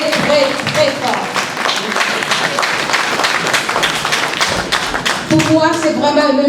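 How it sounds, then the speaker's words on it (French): Audience at a Franco-Mauritian beauty pageant claps loudly and energetically, close and continuous, with a voice heard before the clapping and someone speaking as it fades. "On l'applaudit très, très, très fort."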